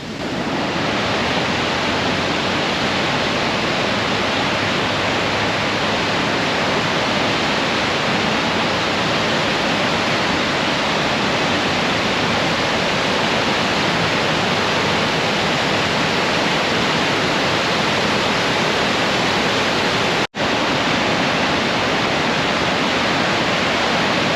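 A waterfall beside the Quinebaug River trail in Brooklyn/Killingly, Connecticut, roars as a dense, steady rush of falling water that stays loud and unbroken throughout, with no voices.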